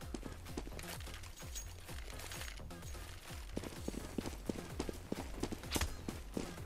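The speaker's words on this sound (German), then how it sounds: "vielleicht hat er die Schritte gehört" Footsteps in the video game CS:GO patter in a fast, steady rhythm, close and fairly quiet, with no talk over them.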